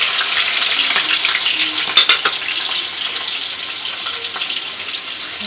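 Onions being fried in a pan for egg biryani give a bright, steady sizzle that stays loud throughout, with a few clinks and stirring scrapes on top and no talking.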